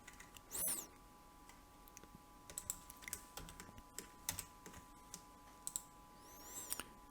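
Computer keyboard and mouse clicks while working in Adobe Illustrator 2020, a few faint, sparse clicks and taps scattered over a quiet background hum, with no talk.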